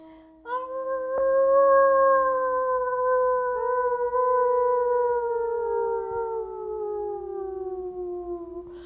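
Several people imitate a howling dog pack, layered drawn-out vocal howls rising together and slowly sliding down in pitch, loud and sustained with no talking.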